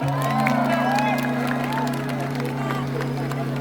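Crowd at a live concert at South Fest in Makassar, applauding and cheering for the vocalist: steady clapping and shouts fill the space under a loud sustained synth drone.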